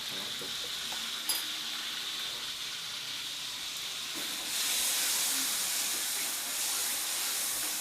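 Shallots and garlic stir-frying in a pan, a steady loud sizzle with hissing steam that swells partway through and stays strong, with faint stirring clatter and no talk.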